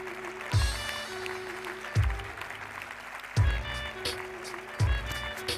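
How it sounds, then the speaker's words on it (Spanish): Audience applause at a sports awards ceremony, a steady dense patter at moderate distance, broken by four heavy low thumps spaced about a second apart. "Les vamos a dar un fuerte aplauso."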